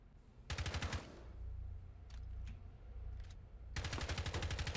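Automatic gunfire in the tactical shooter Rainbow Six striking a player's ballistic shield, with rapid loud bursts at the start and end separated by sharper single shots and a low rumbling background.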